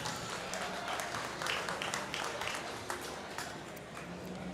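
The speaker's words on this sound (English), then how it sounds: "Give her a nice round of applause" An audience at a swine show in the Schulte Complex claps in a steady, fairly faint round of applause that carries throughout, a thick patter of many hands.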